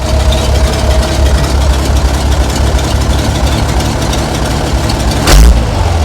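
A large diesel engine in a 60-year-old International 6x6 army dump truck, left sitting for years, idles steadily and loudly up close, with a low rumbling chug and a brief louder thump near the end.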